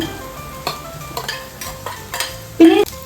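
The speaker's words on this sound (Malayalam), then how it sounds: "അതിലേക്ക് സവോള ഇട്ട് കൊടുക്കാം." Onion tipped into hot oil with frying garlic in a pan, giving a close sizzle with stirring scrapes and a short louder burst near the end.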